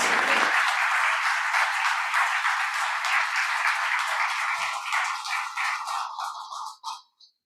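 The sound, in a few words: congregation applauding new members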